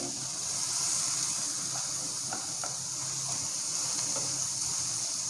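Capsicum and cabbage frying in a pan, a steady broad sizzling hiss running throughout with faint clicks of utensils, close and even, no talk.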